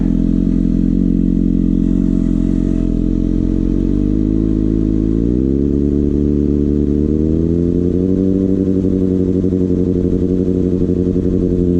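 Kawasaki ZX6R motorcycle engine held at a high idle, a loud, close, steady drone whose pitch climbs in two stages partway through, then holds higher, with no talk.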